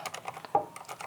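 Keys clatter on a computer keyboard in a quick irregular run of close, crisp taps, with one slightly louder keystroke near the middle and no voices.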